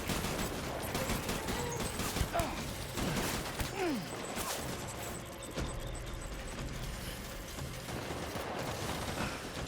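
Rapid bursts of gunfire crackle in a video game amid mechanical rattling and clanks, fairly loud and irregular, with a short high whine partway through.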